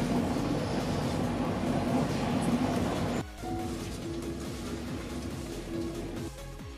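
Steady low rumble and rolling hum inside a limited express train travelling through the Nara area toward Osaka, continuous and even with a sudden drop in texture partway through, heard alone without voices.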